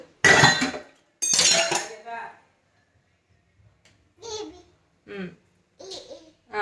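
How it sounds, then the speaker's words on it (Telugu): Dishes clinking and clattering in a sink, in short separate bursts with pauses, following a louder stretch of close activity. "గిన్నెలు తోముతాను"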